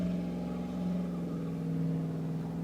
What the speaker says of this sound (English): noisy boat to go past.